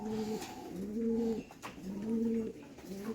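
Racing pigeons coo inside a pigeon loft in repeated soft, throaty two-part calls, close and clear, with faint background chatter of other birds and no talk.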